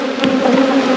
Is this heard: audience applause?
no